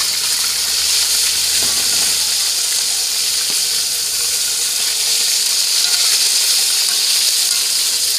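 Fish fries in a pan and is flipped over, giving a loud, steady hiss and sizzle that holds evenly from start to finish.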